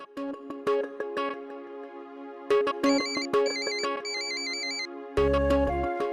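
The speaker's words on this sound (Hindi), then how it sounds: "अब नंदू को फोन करके पूछती हूँ कि वो आया कि नहीं।" A melodic electronic phone ringtone plays loudly in repeating bursts of tones, with short gaps between phrases.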